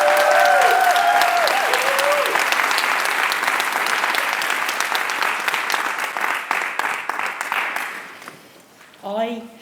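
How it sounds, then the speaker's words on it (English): An audience at a writers' group reading gives a round of applause, dense steady clapping from a crowd that gradually thins into scattered claps and fades as a speaker begins at the end. "Let's give them a round of applause."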